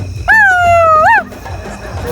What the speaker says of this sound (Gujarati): કૂતરો તો જબરો છે યાર